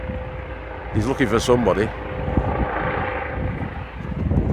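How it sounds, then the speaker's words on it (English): A police helicopter flies overhead above a small farm, its rotor drone a steady, broad rumble under a voice, swelling slightly toward the end. "I would start filming just as the police helicopter's flying over, wouldn't I?"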